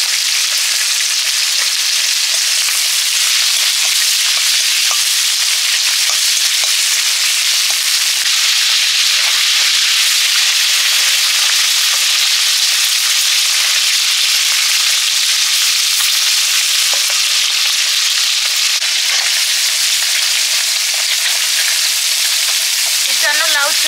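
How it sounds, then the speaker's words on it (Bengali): Bottle gourd peel fries in hot oil in a pan, a loud, dense, continuous sizzle that crackles steadily from start to finish with no voices. "লাউ চিপিগুলো ভেজে নিচ্ছি"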